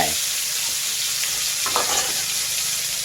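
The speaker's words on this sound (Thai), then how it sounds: "ต้องกระทะร้อนควันขึ้นแหละ แบบนี้เลย ใส่เลย พริกขี้หนูกระเทียมเกลือ" Bird's eye chili, garlic and salt hit a smoking hot wok with a steady, loud sizzle, broken by faint stirring scrapes as the mixture fries.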